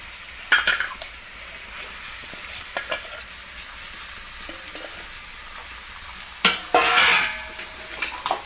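Mutton dropped into spices frying in a karahi, with stirring scrapes and sizzling that flare into louder bursts near the start and again toward the end, close and without talk.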